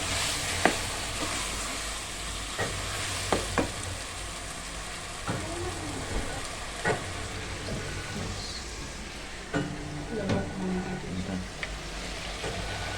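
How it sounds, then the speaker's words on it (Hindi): Ridge gourd cooking in a pan with tomato and spices gives a soft continuous sizzle, broken by scattered spatula scrapes and knocks as it is stirred, fairly close and moderate in level. "अब तोरी मिक्स हो रही है टमाटर और मसाले के साथ"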